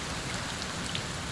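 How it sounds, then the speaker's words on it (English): Heavy rain pours steadily on a hike through the Upper Paria area, a dense, continuous hiss of falling drops with no voices. "This might be the hardest it's rained all day"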